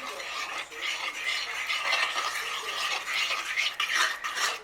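An egg is stirred into brownie batter in a bowl, giving a quiet, continuous scraping and clinking of a utensil against the bowl for a few seconds, with no talking.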